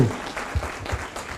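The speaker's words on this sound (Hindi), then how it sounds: "सो एक बार जोरदार तालियां आप सबके लिए" Short burst of audience applause at a business coaching seminar, scattered claps from a hall crowd, with some talk under the clapping.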